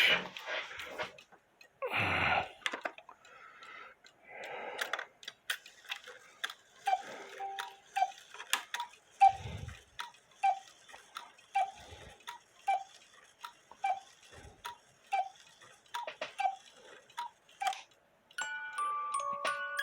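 An Albert Schwab Karlsruhe one-day hunters musical cuckoo clock under repair ticks mechanically in a steady, even rhythm, each tick crisp and close, with a few scattered handling knocks early on and no talking.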